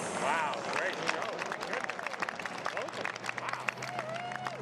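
A golf gallery claps and murmurs at a women's tournament after Nelly Korda's approach shot, a sustained wash of applause and crowd noise with a voice talking over it.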